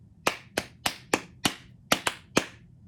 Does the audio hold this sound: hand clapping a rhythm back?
yes